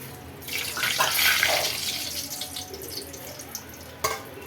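Murukku dough spirals drop into hot oil in a kadai, setting off a loud close hissing sizzle that swells and then settles into a steadier bubbling fry, with no one speaking.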